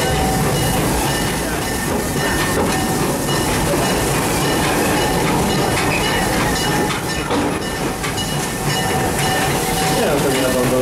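Serengeti Express train ride at Busch Gardens Tampa, recorded onboard: continuous rumbling roll on the rails with rhythmic clickety-clack and faint hiss, steady and close, with light background voices.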